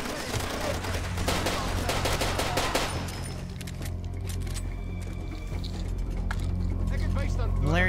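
Rapid automatic gunfire punching through walls in Far Cry 2, a dense burst of shots in the first few seconds, then scattered sharper cracks as the speaker talks.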